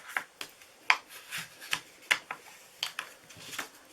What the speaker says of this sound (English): I'm going to use my bone folder to sharpen these, just to make sure it's really flat.